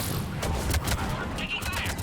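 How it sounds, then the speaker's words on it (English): Rapid gunfire rattles at a checkpoint in the video game Mass Effect 3, a dense, loud, continuous burst of shots that fills the whole stretch without pause. "The checkpoint is under fire!"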